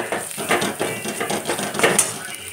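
Spoon scraping and clinking in a pan while Kashmiri chilli, cumin and coriander powder are stirred into onions, a steady run of metallic scrapes with a faint sizzle underneath.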